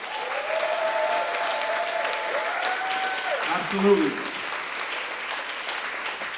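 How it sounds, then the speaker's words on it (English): Audience applause at a high school graduation ceremony, steady clapping from a crowd with a brief spoken word and some voices over it. "So can we just have a round of applause?"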